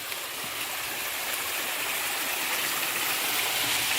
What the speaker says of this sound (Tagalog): Meron pang mini waterfalls